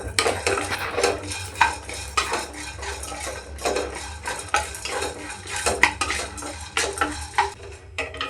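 Ingredients fry in a pan in a home kitchen, with a steady low sizzle under repeated metallic clinks and scrapes of a spoon stirring against the pan.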